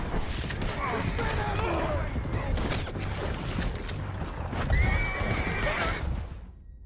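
Horses whinny and neigh with galloping hooves in Red Dead Redemption 2, set amid a loud chaotic gunfight scene with shouting voices throughout.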